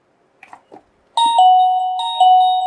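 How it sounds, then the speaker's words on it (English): A loud electronic doorbell chime from an Atom8 video doorbell rings out in a clear two-tone melody, preceded by a couple of faint soft clicks. "the chime will start ringing"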